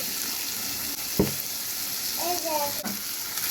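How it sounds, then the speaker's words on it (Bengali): Vegetables for noodles fry in oil in a pan with a continuous close sizzle, broken by a few sharp utensil knocks and stirring clinks. "ভেজিটেবলসগুলো হয়ে এসেছে আমি একটু অয়েল দিয়ে দিচ্ছি"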